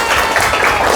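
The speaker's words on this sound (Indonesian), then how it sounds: "Oke ya, tepuk tangan buat kita semua." Brief burst of clapping from a primary school class during an Indonesian science lesson, a short, dense patter of many small hands close by.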